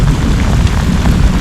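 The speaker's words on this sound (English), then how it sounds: "Hail's coming down a little bit." Heavy rain mixed with hail pours onto a lake during a bass fishing tournament, a dense, loud, steady roar of drops close by, with no voices.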